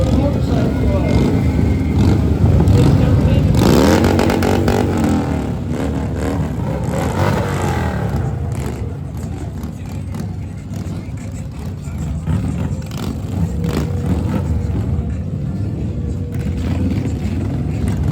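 Motorcycle club riders roll past in the Daniel Boone Festival parade, engines rumbling and revving loudly up close, then settling into a steadier drone, with voices in the background.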